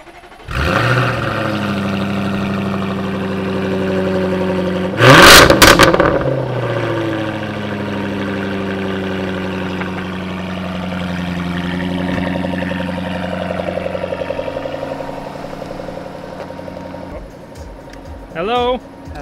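A car at the Hochschule München diploma show in Munich starts up and settles into a throaty idle, gives one sharp, loud rev around the middle, then drops back to a steady rumble before a brief blip near the end.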